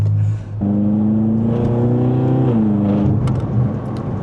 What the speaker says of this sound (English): Oh, this car just sounds so good.